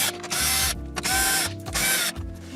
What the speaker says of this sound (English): we're going to have these 4 7mm bolts here that we'll need to take out